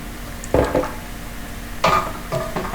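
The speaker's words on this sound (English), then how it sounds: "and just keep sauteing it" A spoon scrapes and clinks against a pan while jackfruit sautés with turmeric and chili powder, making a few sharp metallic scrapes in two short bursts over a quiet background.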